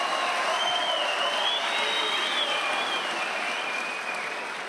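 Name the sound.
crowd applauding at a judo championship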